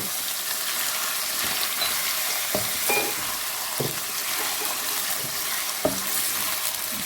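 Boneless chicken fries in a pot for a handi with a steady, close sizzle, broken now and then by soft clicks of stirring.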